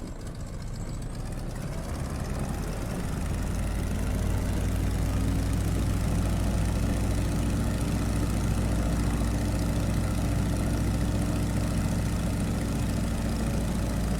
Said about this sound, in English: It's just a little 7-cylinder radial engine, makes about, I think it's 200 horsepower.